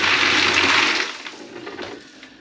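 A wet tumbler spinning range brass in water with dish soap: a wet, rushing churn of water and tumbling parts, loud for about a second before dropping to a quieter, uneven sloshing.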